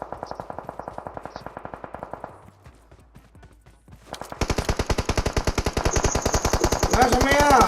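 Rapid automatic gunfire shooting robots in the PUBG Mobile video game, first as quieter steady bursts, then a pause, then loud continuous fire with a rising tone near the end.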